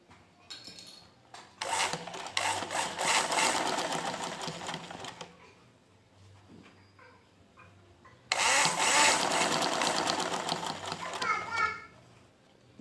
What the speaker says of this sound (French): Nous plaquons et nous commençons à coudre tout au long.